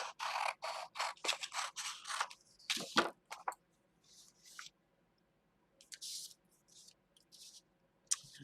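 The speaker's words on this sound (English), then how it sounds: "I think I am going to go ahead and just cut this out." Scissors cut through craft foam up close, in irregular bursts of crisp snipping and slicing with brief quiet gaps between cuts and no talking.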